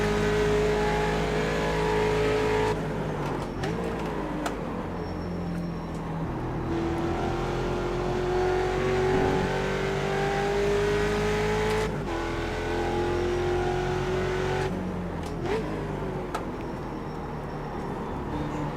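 Ford Mustang race cars in the iRacing Mustang Challenge at Road America roar continuously, engine pitch climbing and falling through gear changes, loud and close with brief dips between shifts.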